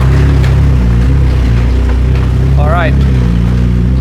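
Ferrari 458 Italia engine rumbles steadily at close range as the car pulls out, a deep continuous drone that holds throughout while a person says a few words over it.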